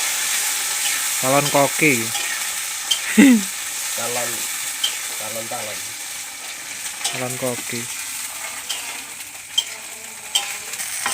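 Cicadas fry in an oily pan in a loud, steady, close sizzle with occasional utensil scrapes, while people talk and call out over it.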